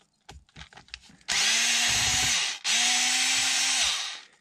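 Power driver spinning out screws on the upper gearbox cover of an Arrma Senton RC truck, two loud sustained whirring bursts of about a second each, preceded by light handling clicks.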